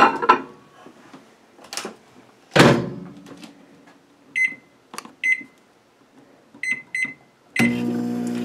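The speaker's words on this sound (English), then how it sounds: "Now I'm just going to go ahead and stick it in the microwave for 3 minutes." A microwave oven heating a cup of tea for three minutes: door thunks and a loud slam, a few short electronic beeps, then the steady hum of the running oven at the end, fairly close.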